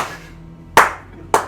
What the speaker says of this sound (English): And applauding slowly.